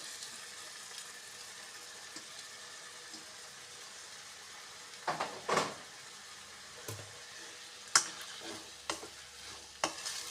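Pre-cooked jackfruit pieces frying in a pan with a quiet steady sizzle, punctuated by a few sharp spoon scrapes and clinks while being turned.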